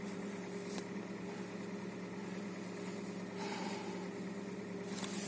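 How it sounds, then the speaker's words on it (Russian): A Hyundai Solaris car engine idles steadily after repair work on a knocking fault. The close, even hum and vibration continue without a break, with a few faint clicks, and no one speaks. "двигатель стал работать мягче"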